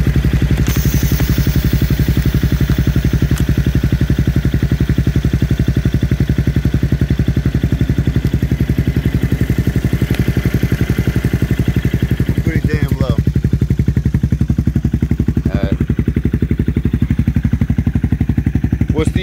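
Yamaha Morphous 400 scooter engine fitted with a Yoshimura RS3 exhaust, running steadily and loud up close with a deep, pulsing exhaust note, while people talk nearby.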